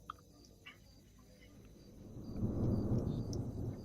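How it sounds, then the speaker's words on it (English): Distant thunder rumbles over hills as storm clouds gather, a faint low roll that swells gradually toward the end, with scattered small sounds above it. "in the distant, rumbles of thunder can be heard as storm clouds gather over the hills"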